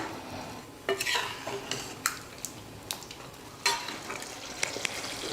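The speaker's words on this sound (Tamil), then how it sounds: "தேங்காய் பால் சேர்த்ததுக்கப்புறம் நல்லா கலந்து விட்டுடுங்க. 1 நிமிஷம் நல்லா கொதிக்கட்டும்." Curry simmering after coconut milk has been added, stirred with a spoon that scrapes and clinks against the pot several times over a steady low bubbling sizzle, close by with no talk.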